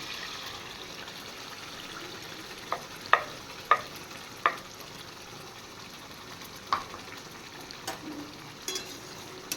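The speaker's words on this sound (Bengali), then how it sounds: "এবার একটু নেড়ে দেবো ভালো করে" Mustard paste and green chilli frying in a pan with ridge gourd and raw hilsa, a soft steady sizzle broken by several sharp scraping knocks of a spoon being stirred against the pan.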